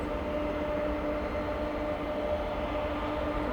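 Boeing 747 cargo plane landing at Manchester Airport, a steady broad engine roar with a low rumble and faint tonal hum, continuous and fairly loud throughout.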